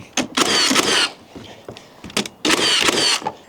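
A pneumatic nail gun fires nails into timber wall studs during wall framing: two long, loud bursts of hissing, clattering noise with a few shorter mechanical clicks between them, close up.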